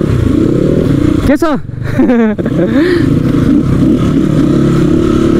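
A Crossfire RM 250 off-road motorcycle engine revs and idles close by with a loud, continuous mid-pitched drone, punctuated by two sharp rising throttle blips, while someone talks over it.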